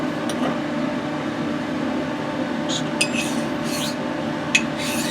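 Straight razor honed on an oiled oilstone, a steady soft grinding rub of steel on stone, faint and continuous under a low background hum, with a few light scrapes and clicks.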